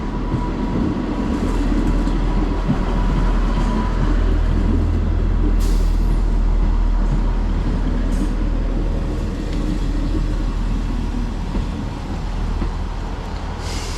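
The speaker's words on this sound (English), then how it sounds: "arriving into Helmsdale now is our train" Class 158 diesel unit 158714 pulls into Helmsdale station in Scotland, a close, loud, continuous rumble and rattle of wheels with brake hiss and squeal, and no one speaking.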